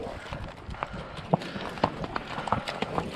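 Horse hooves clatter at a quick, uneven gallop during cattle roping, sharp thuds on hard ground close by, with faint rustling and movement around them.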